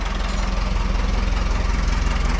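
A Case 830 tractor engine idles steadily after starting, a close, continuous low rumble with an even, rapid pulsing throb and no pauses.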